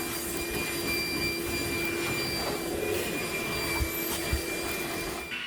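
Vacuum cleaner running inside a car, a steady high whine with a constant hiss of suction close by, a couple of faint knocks and no talk.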